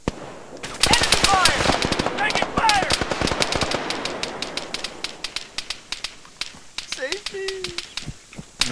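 Sustained gunfire in the military shooter ArmA 3, rapid machine-gun bursts and scattered rifle shots crackling over several seconds, with voices calling out amid the shooting.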